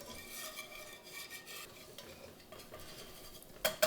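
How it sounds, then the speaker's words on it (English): A whisk stirs flour into melted butter in a pot to start a roux for shrimp étouffée, making soft, rhythmic scraping strokes. The whisking is quiet and close, and a sharper metallic clink comes at the very end. "Now that the butter is completely melted, and I'm just going to whisk that dude in there"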